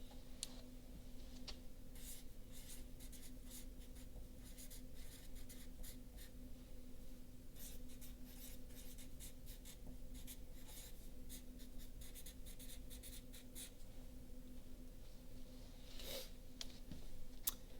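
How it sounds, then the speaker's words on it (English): A pencil scratches words onto paper, giving a run of quick, close strokes and faint taps, quiet and steady, with no talking. "I want you to jot those words down"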